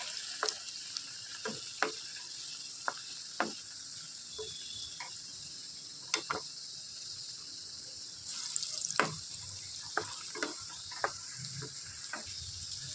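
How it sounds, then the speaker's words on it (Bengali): Fish balls made from bhola fish frying in hot oil, a faint steady sizzle with scattered soft pops and crackles spread across the whole stretch, no voices. "এবার আমরা এটা গরম গরম তেল এবার ভেজে নেবো"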